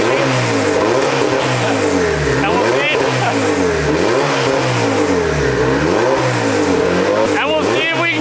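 A fully built Honda Civic with an LS VTEC engine revs hard on a dyno. The loud, sustained engine note repeatedly climbs and drops in pitch, with sharp whistling bursts near the end.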